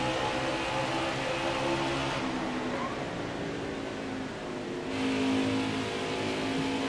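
PTM series race trucks roaring down the front straightaway at Iowa in a continuous loud, steady engine drone that swells again near the end, with crowd and track ambience underneath.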